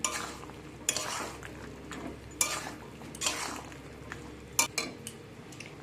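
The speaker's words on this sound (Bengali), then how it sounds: "এখন এর মধ্যে আমি ভেজে রাখা সয়াবিনগুলোকে দিয়ে দিলাম, দিয়ে সব কিছুকে মিক্স করে নেব।" A spoon scrapes and clinks in a pan while fried soybeans are stirred into a chili sauce. The strokes come in irregular, close-up bursts over a soft sizzle.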